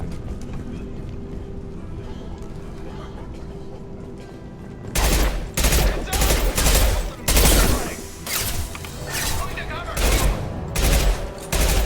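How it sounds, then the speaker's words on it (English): Gunfire from the Mass Effect video game erupts after a steady low hum, with repeated loud volleys and rattling bursts that continue close and dense to the end. "Good shooting, Tex"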